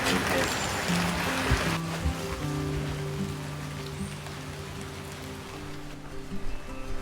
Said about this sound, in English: We are absolutely soaking, and I mean drenched. It hasn't stopped raining all day